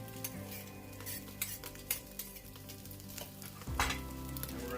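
Browned meat sizzles loudly in a pan for a Bolognese sauce as onion and garlic go in, with steady frying hiss, scattered utensil clinks and a brief louder burst of sizzle near the end.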